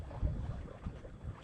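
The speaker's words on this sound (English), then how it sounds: "Got the engine off and sailing." A sailboat beating to windward under sail alone with its engine off at sunrise, giving steady low water rush and hull slap beneath gusty wind noise buffeting the microphone, with no voices.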